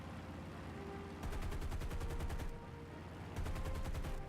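Twin Browning M2 heavy machine guns on a PBJ-1H bomber in War Thunder strafe anti-aircraft positions, firing two sustained rapid bursts with a steady engine drone running underneath and between them.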